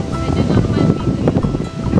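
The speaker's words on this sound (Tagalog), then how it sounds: "Napakalakas nun ng hangin, no?" Loud, gusty wind buffeting the microphone with a roaring low rush, mixed with voices talking underneath.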